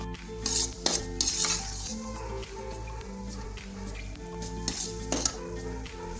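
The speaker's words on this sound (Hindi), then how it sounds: "ये देखिए ना, ऐसी तरह इसको हिलाते रहना है।" Semolina halwa stirred in a kadhai, with a spoon scraping and clinking against the metal pan in repeated strokes over a low steady background hum, close by with no talking.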